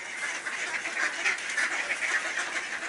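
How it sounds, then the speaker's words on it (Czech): A group of ducks quacks continuously at a feeding spot, a dense, busy chorus of overlapping calls at fairly close range with no speech. "Kupa kačenek."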